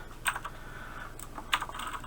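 Java code typed on a computer keyboard, a steady run of close, quiet keystrokes with a couple of louder key presses standing out, with no talk.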